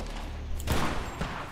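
A burst of rockets fires in the Primal Carnage: Extinction video game, a loud whooshing blast followed by a shorter second report.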